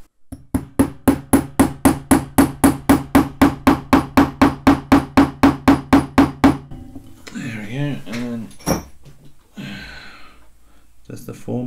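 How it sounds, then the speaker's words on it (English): Steel hammer blows drive a roll pin into the bolt carrier of a KC-02 VSR airsoft rifle during a Genesis conversion kit install, a steady run of about twenty-five sharp, evenly spaced strikes, followed by clinking metal handling and faint breathing. "We can hammer in most of the way and then just use a punch to tighten it up at the end."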